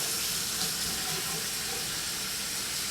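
Warm tap water splashes repeatedly onto a face at a sink, a steady broadband wash of running and splattering water close by, with no talk over it.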